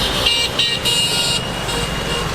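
A car carrying seven people, a Mercedes, passes on a road near Imlil in Morocco's Atlas Mountains. Steady engine and road noise fills the clip, with a faint horn toot in the mix.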